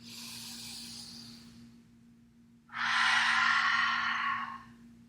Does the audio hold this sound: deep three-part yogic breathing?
yes